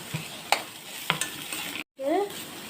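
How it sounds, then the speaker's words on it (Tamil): Vegetables sautéed in a pan with chicken powder, curry masala and salt for egg rice: a steady sizzle broken by a few sharp utensil scrapes and clinks, then a short silence before frying resumes. "இப்போ தான் சிக்கன் பொடி, கறி மசாலா பொடி, உப்பு போட்டு நல்லா வதக்கிக்கணும்"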